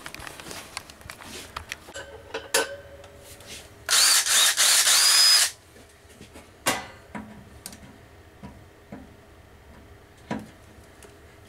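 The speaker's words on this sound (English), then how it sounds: "this bolt here and this bolt here, I have to drill out to get these brackets to move." A power drill bores out bolts or rivets on the bracket of a Bohn half-round refrigeration evaporator, one loud burst of about a second and a half between scattered clanks and handling knocks.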